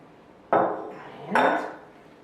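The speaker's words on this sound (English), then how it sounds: "Scrap your bowl nicely." A spatula or scraper drawn twice across a mixing bowl to gather flour for Italian handmade egg fettuccine dough, two close, rasping strokes about a second apart in an otherwise quiet kitchen.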